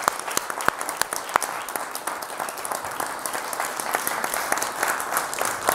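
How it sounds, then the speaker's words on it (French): An audience applauds at a presentation event, with sparse, distinct claps that rise into a moderate, steady patter and carry on throughout. "On peut l'applaudir."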